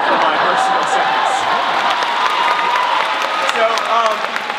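An audience at a storytelling convention cheers and applauds, a dense wash of clapping with scattered whoops sustained at a loud, even level, with a voice heard over it.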